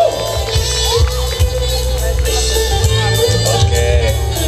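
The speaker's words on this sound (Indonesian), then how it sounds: "Boleh tepuk tangannya sekali lagi untuk juara dua." An audience at the grand final night of the Putra Putri Lawu 2017 pageant in Karanganyar applauds and cheers for the runner-up, a loud, continuous wash of crowd noise with scattered shouts.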